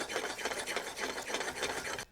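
Eggs for an omelet are beaten with the back of a fork in a skillet, making a quick scraping, swishing rhythm of short repeated strokes. The sound stays close and steady for about two seconds, then cuts off abruptly.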